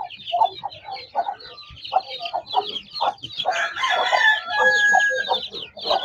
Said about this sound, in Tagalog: Kumakain na sila mga sisiw ko.